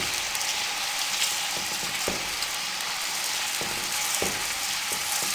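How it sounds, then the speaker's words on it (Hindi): Chopped onions fry steadily in hot cooking oil for a vegetable biryani, giving a dense, even sizzle with occasional sharper crackles and pops, close and continuous with no talking. "अब इसमें हम कटे हुए प्याज डाल देंगे। अब प्याज़ों को अच्छे से भून लेंगे जब तक ये हल्के गुलाबी ना हो जाएं।"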